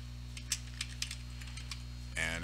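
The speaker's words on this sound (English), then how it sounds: "we can type in there." Several separate computer keyboard keystrokes tapped while filling in a character-name field in a GUI layout tool, sparse clicks over a steady electrical hum, followed by a brief louder burst at the end.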